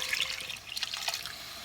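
Water pours into a cooking pot for rice in a steady, close splashing trickle with small drips, heard alone without talk.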